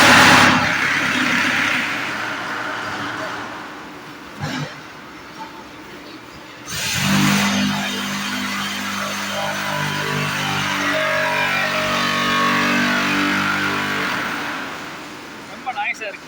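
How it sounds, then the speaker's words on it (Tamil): Noisy hollow block making machine running in a block factory, loud mechanical rumble and clatter with a heavy pounding cycle that starts partway through, while someone talks over it. "ரொம்ப நாய்ஸாக இருக்குங்க மிஷினு."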